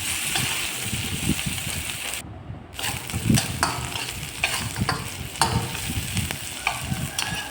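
Chopped onion and green chilli frying in oil in a wok for a mixed-vegetable ghonto, a loud close sizzle with repeated spatula scrapes and stirring, briefly cut off for a moment partway.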